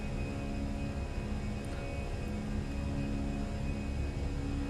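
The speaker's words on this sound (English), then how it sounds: "Absolutely love the sound on this plane." The engines of a Fenix A320 climb in Microsoft Flight Simulator 2020, making a steady, dense roar and hum with a low rumble and a few constant tonal whines. The level stays even throughout, and no one speaks.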